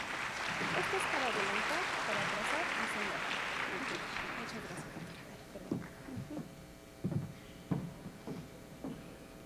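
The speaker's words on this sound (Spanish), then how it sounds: "La recibimos con un aplauso, por favor" Applause from an audience at a scientific conference, dense and steady at first, fading out after a few seconds as a voice begins speaking.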